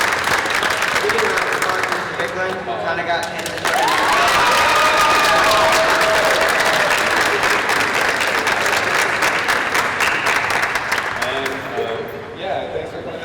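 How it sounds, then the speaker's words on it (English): An audience at a school end-of-year creative writing event claps loudly and steadily, with some cheering, as a person briefly speaks over it. "So give them one more round of applause."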